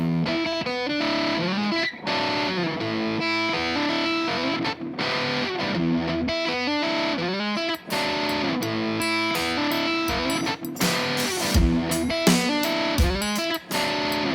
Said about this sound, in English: So that's my guitar sound.